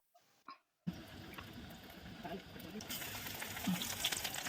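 Coriander leaves dipped in batter fry in hot oil, a soft bubbling sizzle that starts after a brief quiet moment and builds steadily louder and fuller, fairly faint overall.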